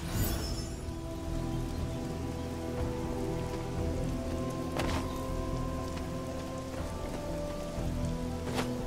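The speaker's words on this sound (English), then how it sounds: "Nothing but the rain." Steady rain from Marvel's Midnight Suns falls as a constant soft hiss of drops on surfaces, even and moderately quiet, with a few faint ticks and knocks and no talking.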